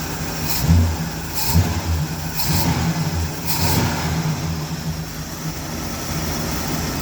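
An engine runs and idles after a bushing repair, a steady mid-pitched mechanical drone with a few small swells in speed, fairly close and heard alone.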